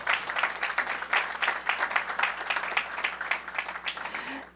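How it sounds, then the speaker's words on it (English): An audience at a campus ribbon cutting ceremony applauds for several seconds, a steady dense clapping from a moderately sized crowd, no voices over it. "Give him a big round of applause."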